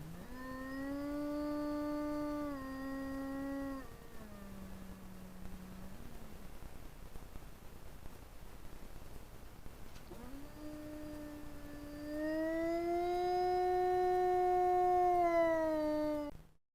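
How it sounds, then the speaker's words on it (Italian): Recorded wolf howls played back to draw a response from wild wolves in the Cansiglio forest, long sustained rising and falling tones repeated over a steady hiss, with a pause between howls. "vengono effettuate sessioni di wolf howling in cui si emettono degli ululati registrati di richiamo"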